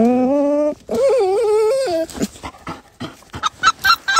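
A hunting dog in a goose-hunting blind whimpers in long, wavering high whines, then gives a series of short, sharp yelps and snuffles, close and loud.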